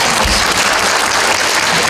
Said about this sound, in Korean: 써니앤세이 두 분께 다시 한번 박수 부탁드리겠습니다.